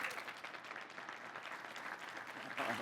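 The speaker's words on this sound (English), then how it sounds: "Round of applause for David." An audience applauds at the Ross Video keynote at the 2024 NAB Show, producing faint, steady, continuous clapping from a distance for a few seconds.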